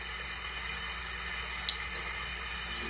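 Steady running tap water rinsing out a fountain pen converter, a continuous even hiss close by with no talking.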